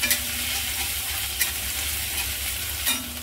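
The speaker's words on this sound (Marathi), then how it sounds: "लसूण आणि अद्रक घेतले चेचून, ते पण टाकूया. आणि चांगलं मिक्स करायचं, जळून नाही द्यायचं जास्त." Crushed garlic, ginger and green chilli stir-fried in hot oil give a loud, continuous sizzle, with a few spatula scrapes spaced through it and no voices.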